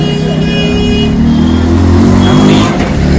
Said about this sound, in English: jika lihat di traffic memang agak hingar-bingar kat sini, meriah dengan bunyi horn